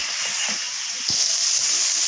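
Meat for kachori filling sizzles and hisses steadily in a hot pan during kosha sautéing, with a few soft stirring scrapes and a brief rise in the frying hiss partway through.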